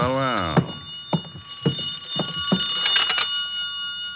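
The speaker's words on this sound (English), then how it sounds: "I could hear the phone ringing from somewhere inside" A phone rings repeatedly with a bright, steady electronic tone, a few short rings in a row in a quiet room.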